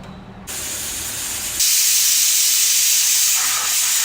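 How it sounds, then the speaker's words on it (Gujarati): Steady hiss of a pot of salted peas boiling and steaming, rising louder partway through and holding as a continuous close rushing wash with no voices. "હવે આપણે આ વટાણાને બાફવા માટે મૂકી દઈશું."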